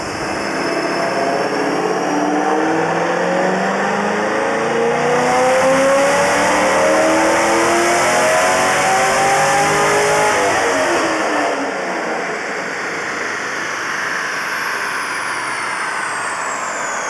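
A muscle car, either a 1971 Chevelle or a 1969 Nova fitted with headers and an air intake, revs hard on a dyno; a loud, close engine roar climbs and sweeps through the rpm, holds high, then eases back down.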